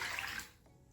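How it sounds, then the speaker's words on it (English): Warm water pours into a sourdough leaven with a short, soft rushing splash that fades quickly into quiet. "I'm going to pour in 800 grams of warm water."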